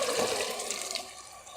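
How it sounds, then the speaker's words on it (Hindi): Boiled chickpeas are poured with their cooking water into a pan of softened onions for chole, making a brief, close gush and splash of liquid that fades toward the end. "अब हम इसमें डालेंगे बॉईल किए हुए चने, पानी के समेत डाल देंगे इसे"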